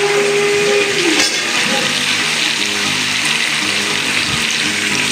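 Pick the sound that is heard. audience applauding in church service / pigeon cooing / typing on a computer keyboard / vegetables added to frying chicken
vegetables added to frying chicken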